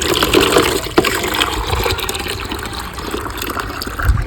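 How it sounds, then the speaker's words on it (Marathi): Water gushing loudly from a tank or pipe into a container for watering rose plants in pots, a continuous close splashing pour with no speech. "त्यामुळे आपल्याला आता द्यायचं आहे झाडांना पाणी"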